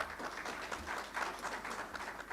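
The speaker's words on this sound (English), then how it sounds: "Please give a round of applause to him." Audience applause at a Connected Summit 2022 tech conference session on digital transformation in Diani, a steady crowd clapping that rises and falls without a break for a couple of seconds, with no voices over it.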